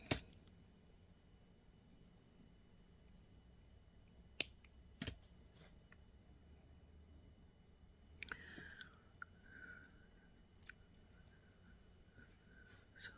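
Wire cutters trim necklace beading wire after crimping with a few sharp, quiet snips spread out over a near-silent background, followed by faint small handling clicks.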